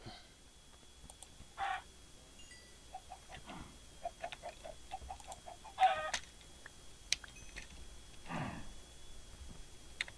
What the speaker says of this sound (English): there's a bunch of chickens